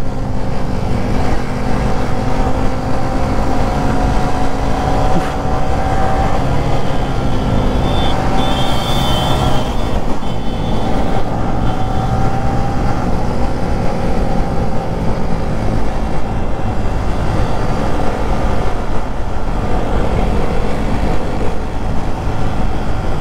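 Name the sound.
scooter engine while riding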